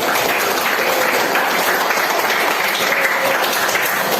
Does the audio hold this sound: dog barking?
no